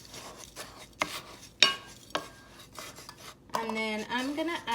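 Sugar being mixed into blueberry square batter of oats in a bowl, a few separate scraping and clinking strokes of a utensil against the bowl, fairly close, with a denser stirring stretch near the end.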